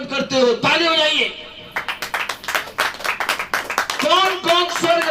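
During a Hindi church sermon, a congregation breaks into a few seconds of brisk, close hand clapping, with a voice speaking before and after it.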